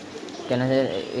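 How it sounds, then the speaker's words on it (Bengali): A domestic pigeon gives a short, close, throaty coo that rises and falls in a brief burst after a moment of quieter background noise. "ওটা একটা নতুন অতিথি পায়রা"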